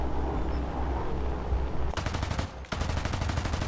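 Aircraft machine guns fired by gunners in the War Thunder combat game, a loud roar of engine and wind, then rapid sustained bursts of close automatic fire in two long strings split by a brief pause.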